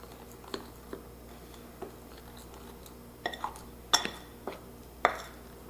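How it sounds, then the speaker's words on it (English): A fork mixes powdered sugar into butter in a bowl for eggnog cookies, giving sparse, light clinks and scrapes that are quiet and irregular against a soft room hum, with no talking. "Take our fork and mix it in with the butter."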